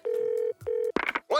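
Two steady telephone keypad dialing tones, each held about half a second with a short gap between, followed by a burst of people talking.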